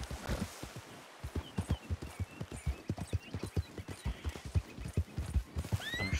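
In the video game Red Dead Redemption 2, a horse's hooves clip-clop in a steady walking rhythm, and a short whinny rises at the very end, all close and fairly quiet.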